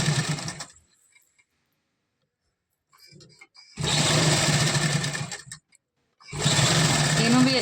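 Sewing machine stitching piping onto a salwar, running in three bursts of steady rapid whirring, each a second or two long, separated by pauses.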